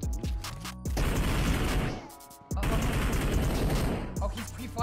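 Video game gunfire comes in rapid automatic bursts with sharp cracks and booms, separated by short gaps, while an excited voice commentates over it.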